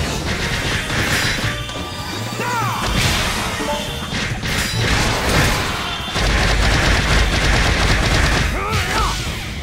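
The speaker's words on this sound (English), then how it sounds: "Smashing up these Dark Gaia creatures all at once can't not be satisfying when rewarded with these sound" Werehog smashing Dark Gaia creatures in the video game Sonic Unleashed: loud, dense crashing impacts and metallic clangs in rapid succession, layered game effects with brief whooshes throughout.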